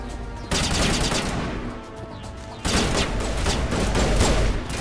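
Gunfire in the video game Mass Effect Legendary Edition, two long bursts of rapid automatic fire, loud and close, separated by a short pause.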